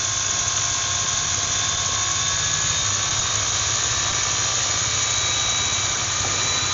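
Roban 800-size UH-1D Huey RC helicopter rotor spooling up slowly for a hover test in light wind, a steady loud mechanical whine with rising tonal harmonics and constant low rotor thrum throughout.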